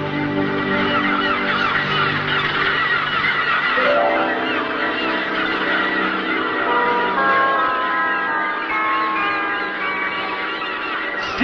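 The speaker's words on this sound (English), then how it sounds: "Sea gulls." A flock of gulls calls loudly and continuously, overlapping honking cries with a bright, ringing tone, close by and without pause.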